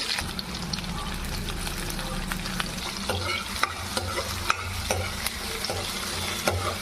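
Onions frying in a pan with spices for Telugu-style chicken curry, a steady close sizzle broken by scattered sharp clicks and scrapes of stirring, with a low rumble underneath and no talking.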